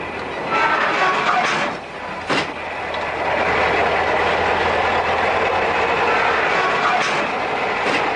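A narrow-gauge passenger railway train rolls slowly along poor, rocking track in a rural Russian settlement, a loud close rumble with occasional clanks over rail joints and steady running noise throughout.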